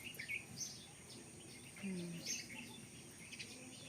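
A tiny sparrow chick in a small round nest inside a tree gives a few faint, high, thin chirps, spaced apart over a quiet outdoor background.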